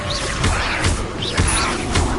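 Incendio fire spell cast repeatedly in Hogwarts Legacy: loud whooshing flame bursts with low thumps roughly every half second over a constant roaring bed, close and loud with no talk.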